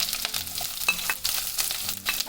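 Sliced onion dropped into hot oil with mustard seeds, crackling and sizzling in quick bursts with faint stirring scrapes, close and fairly quiet, no voices.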